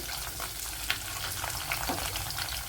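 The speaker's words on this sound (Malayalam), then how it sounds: "ഇനി ഇതൊന്ന് ബ്രൗൺ നിറാകുന്നവരെ ഒന്ന് വഴറ്റിയെടുക്കുക" Garlic sizzling in hot oil in a pan for a Kerala vaala fish curry, a close, even crackle of frying with light stirring, alone and steady for a few seconds.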